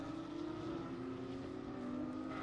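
Porsche Carrera Cup race cars at the Hockenheim circuit, a steady sustained engine drone holding a near-constant pitch that edges slightly lower, at moderate distance throughout with no clear pass-by.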